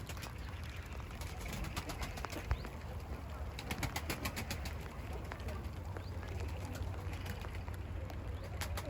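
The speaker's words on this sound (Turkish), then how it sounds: "kuşlar da orada uçuyor" Pigeons coo and flutter against a steady hissing background of rain, with scattered sharp ticks throughout.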